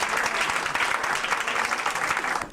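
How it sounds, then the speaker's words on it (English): A gallery audience at a wearable art show claps in a sustained, dense round of applause, loud and continuous throughout with no break. "Let's give Queen Esther a round of applause."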